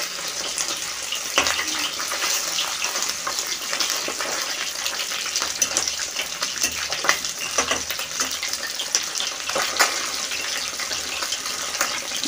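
Bele fish frying in hot oil, giving a steady, close sizzling hiss with scattered crackles and pops throughout and no talk.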